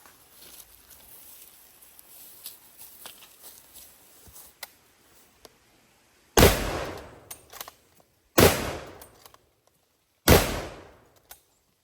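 Three loud, close gunshots from a Rigby Big Game Rifle in .416 Rigby crack out about two seconds apart, each followed by a short decaying echo, after quieter handling clicks and rustle.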